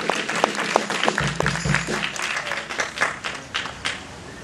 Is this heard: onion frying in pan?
no